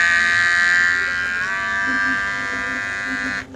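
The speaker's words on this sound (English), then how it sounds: "But for me, it's a cheap hair trimmer." A cheap electric hair trimmer runs with a steady close buzz. Its pitch drops slightly partway through before it cuts off near the end.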